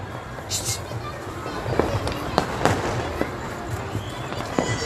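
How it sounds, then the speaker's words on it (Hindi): Fireworks crackle and pop in scattered bursts at a distance at sunset, heard beneath a steady background of voices and crowd noise during Independence Day celebrations in Old Delhi. "आतिशबाजी शुरू हो चुकी है।"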